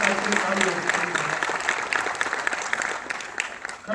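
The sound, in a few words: audience applause at an event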